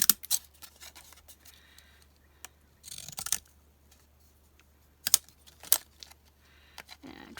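Several crisp snipping cuts of scissors trimming paper for a junk journal, irregularly spaced, with soft rustling and handling noise in between.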